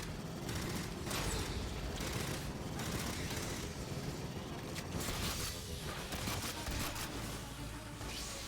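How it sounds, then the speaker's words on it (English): Dense, continuous gunfire rattles through a firefight against swarming aliens in the shooter Aliens: Fireteam Elite, with loud overlapping bursts and clatter and no letup. "shooting"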